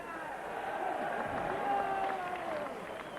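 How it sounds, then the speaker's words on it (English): Crowd cheering at a Llanelli rugby match after a kick, a broad, distant roar of the stand swelling and holding steady beneath a commentator's voice. "And a big cheer all around Jonathan Mason"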